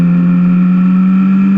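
Motorcycle engine held at a loud, steady drone during a clutch-up wheelie, close and continuous with no break in pitch.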